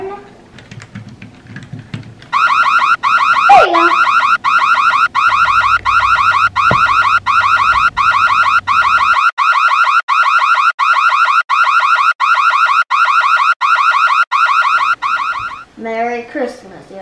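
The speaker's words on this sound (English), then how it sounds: "Alarm system on." A home alarm system beeps in a fast, loud, regular pulsing pattern for about thirteen seconds, preceded by brief talk and a few clicks and followed by a short voice at the end.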